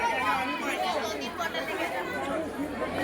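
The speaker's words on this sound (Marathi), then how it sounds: "भंडारा इकडे भंडारा एवढी गर्दी आहे" Dense crowd chatter at a bhandara community feast, many overlapping voices forming a continuous, busy murmur close around, with no single voice standing out.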